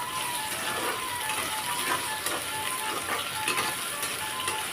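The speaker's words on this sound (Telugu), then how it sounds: "ఇప్పుడు ఇందులో చిన్నగా చాప్ చేసుకున్న ఆనియన్స్ వేసాను" Finely chopped onions frying in a pan while cooking palak paneer, a steady close hiss and sizzle with occasional crackles and stirring scrapes, constant throughout.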